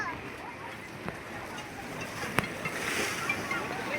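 Sea waves wash steadily at Gomti Ghat in Dwarka, a soft continuous surf with wind, broken by a few sharp splashes or knocks, faint and distant throughout.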